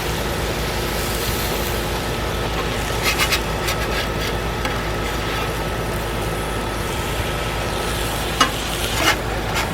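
A Cuban sandwich pressed flat on a Blackstone griddle, sizzling in a steady, close hiss that runs the whole time, with a few faint scrapes and taps near the end.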